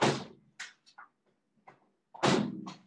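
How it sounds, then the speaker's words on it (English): Wind blows a door open in rainy weather: a sudden loud thump and rush, a few scattered knocks and rattles, then another heavy bang with a sweeping gust, close by in a quiet room. "Oh shoot, my door just blew open."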